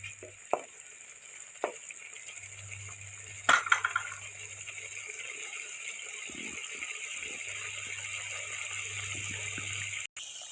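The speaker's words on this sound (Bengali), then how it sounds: "আমি মশলা ধোয়া বাটিটা সামান্য একটু জল দিয়ে দেবো।" Spice-bowl rinse water poured into a sizzling pan of rohu fish curry with raw mango: steady frying hiss with a sharp clatter and splash near the start, close, with no voices.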